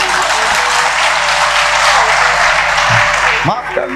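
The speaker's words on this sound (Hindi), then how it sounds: "ताली बजाओ" An audience at a Gayatri Pariwar gathering in Bihar claps loudly and steadily as a crowd, with a voice speaking over the applause near the end.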